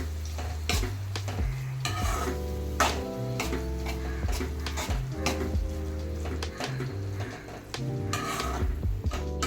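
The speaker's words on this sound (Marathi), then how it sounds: "आता ह्याच्यात आपण वांग ॲड करून घेतोय. छानपैकी मिक्स करून घ्यायचं." Brinjal and masala are stirred and fried in a pan while a spoon clinks and scrapes in a steady rhythm against the metal, over a constant sizzle, with no talking.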